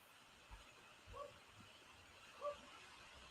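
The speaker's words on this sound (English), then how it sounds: "who's got the dog in the background?" A dog barks twice, faint and distant, somewhere in the background of a quiet indoor room, with short, soft yaps spaced about a second apart over low room noise.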